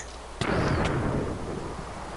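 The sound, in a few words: lightning strike thunder in Minecraft video game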